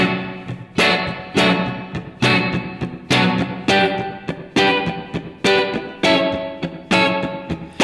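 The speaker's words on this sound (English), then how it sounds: "We can also do this strumming pattern with just down strums" A guitar plays a chord with repeated down strums in a steady rhythm, each strum clipped short by muting, with about ten crisp, close strokes.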